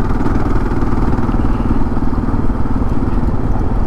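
A 2022 Kawasaki KLR 650 adventure motorcycle riding a gravel road, its engine droning loud and steady with continuous rumble and wind, close up and without pauses.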